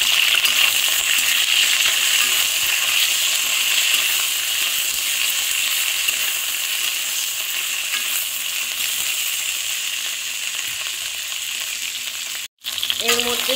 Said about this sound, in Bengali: এবার কেটে রাখা ভেন্ডিগুলোকে এর মধ্যে দিয়ে দিচ্ছি